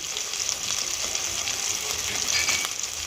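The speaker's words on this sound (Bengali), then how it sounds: "আমি নেড়ে নেব মশলাটাকে ভালো করে মশলাটাকে কষিয়ে নিয়ে" Turmeric and salt spice paste frying in a pan as it is stirred, a steady close hissing sizzle that runs unbroken throughout, with no talk.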